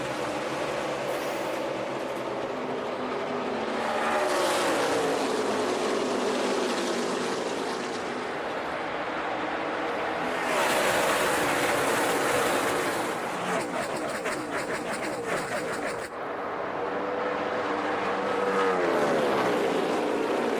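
NASCAR stock cars racing at Kansas in the 2012 Hollywood Casino 400, engines roaring loudly and continuously as packs sweep past, with rising and falling pass-bys and no talk over the din.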